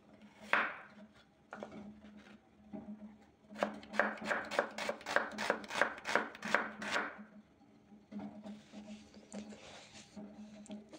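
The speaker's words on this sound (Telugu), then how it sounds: "ఈలోపు మనం ఆనియన్ కట్ చేసుకుందాం." A very sharp knife chops an onion on a board with a quick run of about a dozen close, crisp thuds after a couple of single cuts, then a softer scraping patch.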